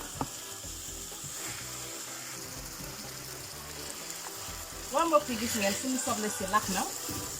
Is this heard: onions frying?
yes